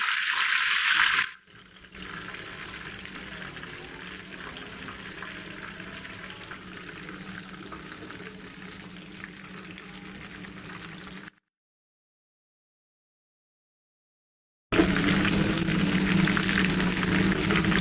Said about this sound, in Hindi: अब 2 मिनट हम दूसरी तरफ फ्राई करेंगे।